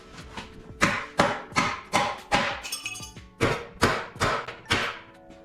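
A hammer strikes a metal nut in a steady series of about ten sharp, ringing blows, close and loud, with a brief metallic clink between strikes.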